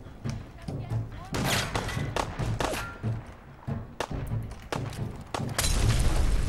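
A Molotov cocktail hitting and bursting into flames in Fallout 4, heard as repeated thumps and a shattering impact, then a loud rushing roar of fire at the end, with a person speaking throughout.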